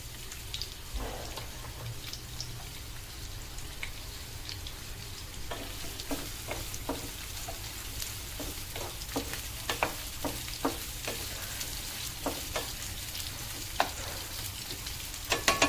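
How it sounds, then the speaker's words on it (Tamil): Onions frying in oil in a pan for South Indian fish curry, a steady soft sizzle with scattered crackles and pops that grow more frequent toward the end, with no one speaking. "எண்ணெய். ஓகே, ஓகே, நெக்ஸ்ட் வெங்காயத்தை போடும்."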